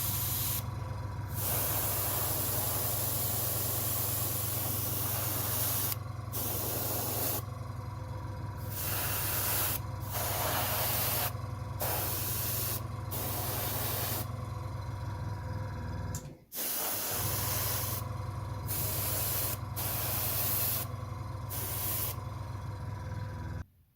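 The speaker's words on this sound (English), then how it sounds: "So I'll spray a bit of that on and see how it looks there." Steady hiss of an aerosol spray can spraying paint onto a Battlestar Galactica model in long bursts with brief pauses between them, close and continuous.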